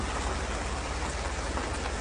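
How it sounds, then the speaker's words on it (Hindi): Steady rain falls as a dense, even hiss with no pauses. It is moderately loud and continuous, and no one speaks over it. "जरा बारिश हो रही है।"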